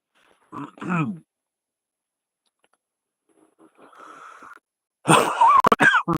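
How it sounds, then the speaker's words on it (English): Several rough, throaty coughs close to the microphone, a short burst, a quieter rasp, then a harsher volley of coughing. "got this bad cough"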